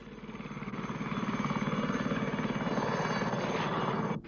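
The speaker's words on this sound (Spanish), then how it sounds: "Los helicópteros traen, llevan o relevan a las fuerzas rhodesianas." Rhodesian military helicopter flying nearby, a loud, steady rotor chop that swells over a few seconds and then cuts off, with no voices.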